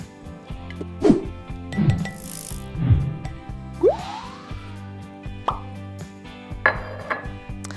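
Thick mayonnaise, a cup and a half for Imperial sauce in a crab dish, plops into a bowl in a series of soft, wet dollops and small clinks, roughly every second, close and fairly quiet.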